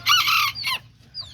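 Backyard chickens give a loud, close, squawking cluck followed by a shorter call, with a faint chirp trailing after.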